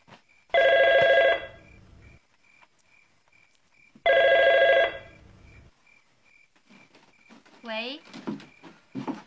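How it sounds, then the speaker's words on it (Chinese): A home telephone gives two loud, near ring bursts with a long pause between them. A faint steady tone runs under both, and soft shuffling and a voice follow. "嫂子电话，是乔玉姐。"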